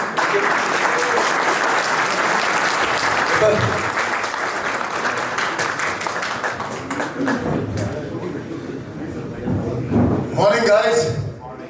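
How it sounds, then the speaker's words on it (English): Students at a school assembly applaud in a sustained, dense burst of clapping that fills the room, with scattered voices and cheers rising toward the end. "Let's hear a round of applause from all of you again."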